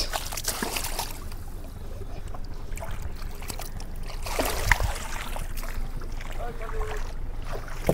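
A fishing boat pushes off and moves along the Hooghly river, with steady water wash and wind rumble throughout and a few louder knocks and splashes near the middle, fairly close.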